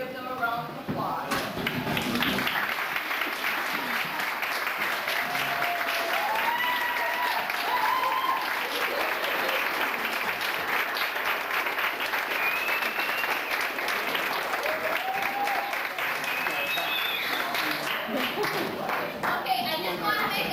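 Guests at a party applaud with sustained clapping that fills the room. Children's voices and chatter mix in, and the clapping thins toward the end.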